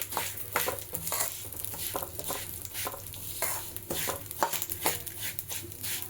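Sesame seeds being dry-roasted in a pan for Telugu sesame spice powder, a steady crackling sizzle broken by the scrape and patter of stirring, close and moderately loud with no talk.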